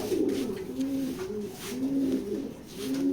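A black racing pigeon in a loft coos in a steady rhythm of low, rolling, throaty phrases, repeating every second or so, close and moderately loud.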